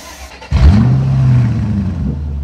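A car engine revved hard during an Italian tune-up on pistons with heavy carbon build-up, a loud sudden roar that holds at a steady high drone and eases slightly toward the end.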